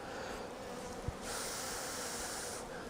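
Honeybees on a hive frame give off a steady, close buzzing hum. The pitch and loudness swell partway through and carry on without talk.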